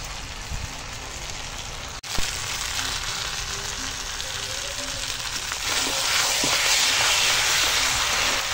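Goat head being braised with stone-ground spices in a clay oven over a wood fire, a steady close sizzle and hiss of frying throughout with a brief knock near the start, growing slightly louder toward the end.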